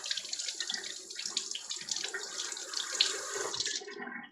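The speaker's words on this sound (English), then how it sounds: "so we're going to rinse it" Running water from a tap pours over a farm egg held under the stream, a steady close splashing and trickling that lasts a few seconds and then cuts off abruptly.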